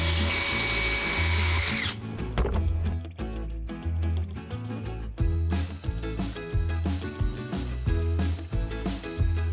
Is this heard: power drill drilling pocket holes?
yes